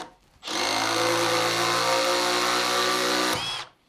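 An impact driver runs a screw in one continuous high-pitched whirring burst lasting about three seconds, loud and close, starting and stopping abruptly with no talk.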